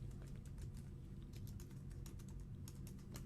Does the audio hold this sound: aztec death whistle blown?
no